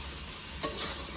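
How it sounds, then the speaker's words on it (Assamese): Meat frying in a pan gives a steady close sizzle, with a brief louder burst of spatter in the middle. "পুৰা ভাজিম আমি একদম"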